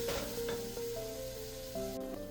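Chopped tomatoes sauté in a pan for chicken curry, a loud continuous sizzle with stirring scrapes, close up and without speech, with faint background tones running throughout.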